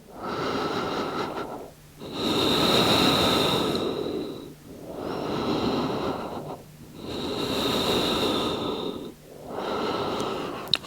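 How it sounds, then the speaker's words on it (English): Slow, deep breathing during a rest in yoga child's pose: five long, audible breath cycles, each a broad airy inhale or exhale separated by short pauses, close and steady with no talking. "Rest and find those deep breaths again."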